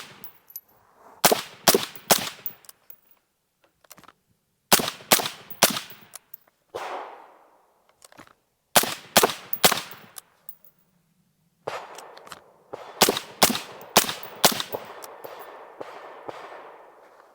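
Suppressed 5.56 rifle shots from a Q Southpaw suppressor crack in quick bursts of three to five, heard from behind the gun at an outdoor range. Short silent gaps separate the volleys.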